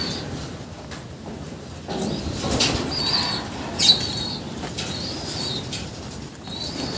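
A racing pigeon is released, its wings clapping and flapping in a quick burst close by before fading, with soft cooing and outdoor ambience around it.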